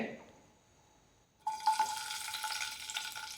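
Green chilies and onion drop into hot oil in a pan for a simple mutton fry, bursting into a sudden crackling sizzle after a quiet moment, with a faint hum beneath.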